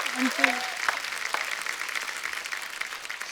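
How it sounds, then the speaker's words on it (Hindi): Studio audience on a television comedy talk show applauds for arriving guests, a broad steady wash of clapping lasting throughout, with a brief voice near the start. "जोरदार तालियां आशुतोष सर के लिए और रेणुका मैम के लिए।"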